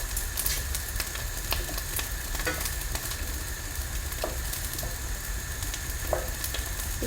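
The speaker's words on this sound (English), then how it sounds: "Stirring in the noodles." Noodles stirred in a sizzling pan, a steady frying hiss with soft scraping and clinks of the utensil scattered throughout, close and continuous, no speech.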